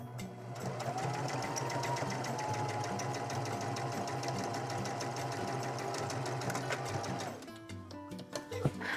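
Sewing machine stitching a rolled hem along the side of an apron fabric, a steady, close, continuous mechanical whir running for about seven seconds before stopping, followed by a few small handling clicks.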